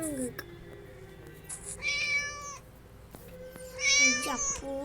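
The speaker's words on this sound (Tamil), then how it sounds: "இந்த பூனை தான் இங்கே இருக்கு" A kitten meows twice, fairly close and clear, with a short plaintive cry at the start, while a voice can be heard faintly in the background.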